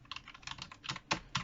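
Quiet, steady typing on a Logitech Bluetooth keyboard, soft clicking keystrokes in an irregular run up close, with a couple of slightly louder taps near the end.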